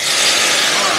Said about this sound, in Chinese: 把我们的排骨放到沙包里。 来，有没有呲啦的声音？